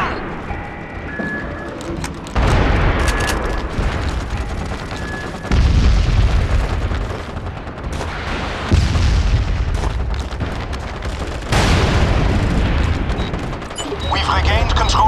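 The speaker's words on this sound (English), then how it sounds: "Fire mission approved. Sensor shells inbound." Artillery sensor shells from a fire mission explode in the shooter game MAG, a series of loud, deep booms arriving every few seconds over constant battlefield rumble and gunfire.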